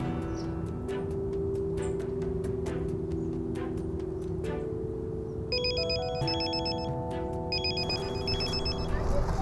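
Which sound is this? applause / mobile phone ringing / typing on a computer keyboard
mobile phone ringing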